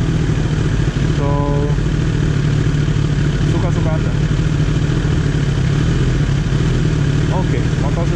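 A 2016–2017 Kawasaki ZX10R superbike engine runs at a steady, loud idle with a rough, clattery character, while a person speaks over it.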